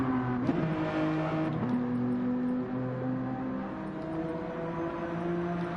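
BTCC race car engines in a racing video game, several cars droning and revving together with steady overlapping engine tones that rise and fall, close and continuous without a break.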